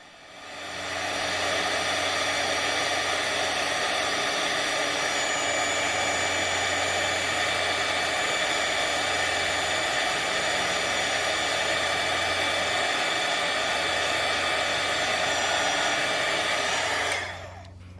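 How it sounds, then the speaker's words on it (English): A heat gun melts gold embossing powder on a handmade card, giving a loud, steady blowing roar that holds for about fifteen seconds and then cuts off, with no talk. "the heat gun for the final time"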